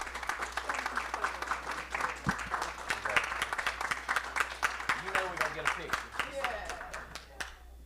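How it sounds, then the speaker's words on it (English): An audience at a school board meeting breaks into sustained applause honoring a 25-year service pin, dense and lively clapping that fades away near the end. "Big round of applause for Mr."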